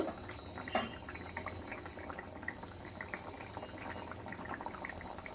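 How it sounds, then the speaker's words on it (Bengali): A thin tilapia fish curry simmers in a pot, making a faint, steady bubbling with small pops and a soft liquid hiss. It is close but quiet, with no talk. "ভালো করে ফুটিয়ে নেব"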